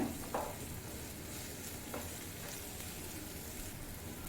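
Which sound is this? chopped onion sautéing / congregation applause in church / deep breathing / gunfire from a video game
chopped onion sautéing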